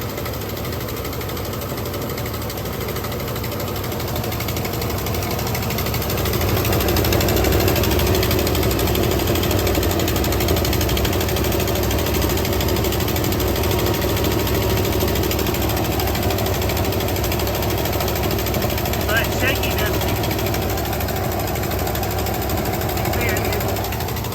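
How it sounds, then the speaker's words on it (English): A 1975 Lincoln Continental engine idles continuously with a rough, rapid puttering from a leaking exhaust, a loud, constant rumble filling the whole stretch, with occasional voices over it. "We're gonna definitely have to address this exhaust leak over here."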